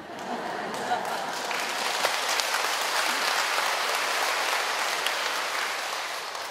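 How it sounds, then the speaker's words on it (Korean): A church congregation at Juyeop-dong parish applauds during a Sunday Mass homily, a steady, dense wash of clapping from many hands filling the hall throughout, fairly close and sustained without pause. "박수까지 쳐주시니 눈물나게 고맙습니다."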